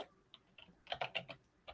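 Rapid typing on a computer keyboard, with a few scattered keystrokes followed by a dense cluster of crisp clicks and then a final tap, close and alone with no voice.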